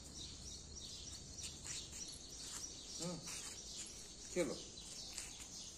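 A pet parrot named Rio gives a couple of short chirping calls over soft background noise, while a person speaks briefly nearby.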